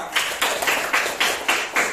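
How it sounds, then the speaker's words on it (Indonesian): Rhythmic classroom clapping for two students, a group beating out about seven even, sharp claps in steady tempo, close and clear. "tepuk tangan untuk mereka berdua"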